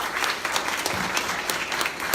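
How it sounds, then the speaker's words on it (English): A crowd claps steadily and fairly loudly in dense applause after a post-race IRONMAN Wisconsin interview, with no speech over it. "Let's give them a round of applause, guys."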